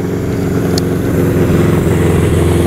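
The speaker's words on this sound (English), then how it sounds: "I'm gonna let the motorcycle go by" A motorcycle rumbles past outdoors on a street, a steady mid-pitched engine drone that holds loud and close for a few seconds with no voices over it.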